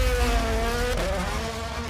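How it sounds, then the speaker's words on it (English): Haas Formula 1 car on a demo run up the Goodwood hill, its engine a loud, sustained high-pitched wail with shifting harmonics that climb and dip across the pass, echoing with no voices over it. "The sound of the Haas engine echoing through the crowd was insane"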